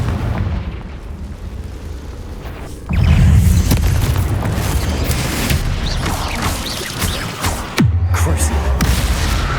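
A Confringo fire spell in Hogwarts Legacy erupts as a heavy booming blast over continuous game ambience, followed by a rumbling tail and a second thud later on.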